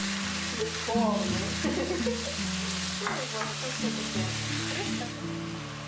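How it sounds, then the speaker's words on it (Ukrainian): A steady sizzle of chicken and onion frying in a small amount of oil in a pan, with occasional stirring scrapes and a faint background hum. "обсмажу на невеликій кількості олії до золотистого кольору"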